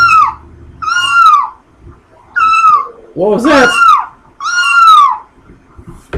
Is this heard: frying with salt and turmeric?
no